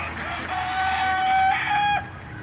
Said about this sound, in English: That rooster might go at her.